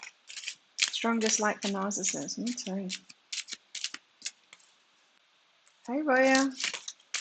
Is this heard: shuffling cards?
yes